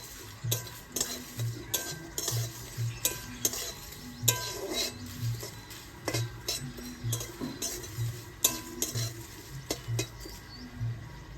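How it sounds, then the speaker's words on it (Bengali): Fennel seeds fry in oil with spices in a pan while a utensil stirs and scrapes, giving a regular run of metallic clinks and scrapes over a faint sizzle, near and alone. "মৌরগুলো একসঙ্গে হালকা করে ভেজে নেবো"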